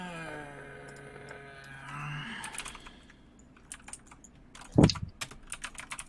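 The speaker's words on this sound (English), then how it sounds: "What a very loud mechanical keyboard." Loud mechanical computer keyboard being typed on, a brisk run of sharp clacking keystrokes following a fading tone, with one heavier clack standing out near the end.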